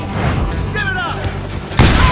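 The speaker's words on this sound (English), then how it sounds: "They're shooting in the street!" Gunfire in the Western shooter game Call of Juarez Gunslinger: a burst of booming shots and thuds with a shouted character line in between, ending in a loud crack near the close.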